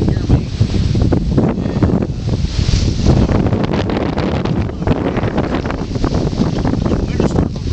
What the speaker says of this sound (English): The wind is starting to really pick up.